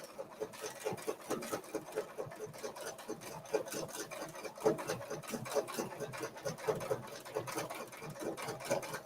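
Sewing machine stitching a puzzle pattern along the edge of a template, a steady rapid chatter of needle strokes with slight variations in pace, fairly close and continuous.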